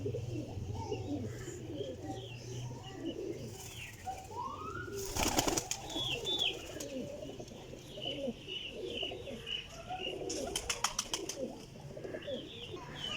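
Pigeons coo softly in a steady outdoor chorus, with occasional bird chirps and a couple of brief bursts of wing flapping.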